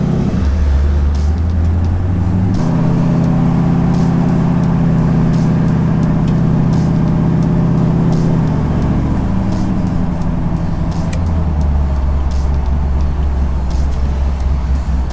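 A 1969 Chevy with an OEM speedometer cruises on the interstate, its engine drone and road roar loud and steady throughout, with a low rumble that shifts pitch partway through as the car changes speed.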